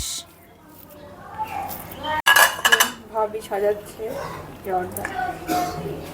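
Zorda sweet rice being served onto a plate with utensils, giving several sharp clinks of metal on dishware and soft scraping, with someone talking over it.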